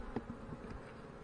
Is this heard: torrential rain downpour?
no